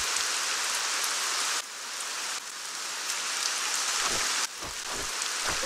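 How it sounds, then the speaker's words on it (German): Steady, dense rain falls without pause in the fantasy role-playing game ArcaniA, a loud continuous hiss with a few brief dips in level and no voices over it. "Und immer dieser Regen."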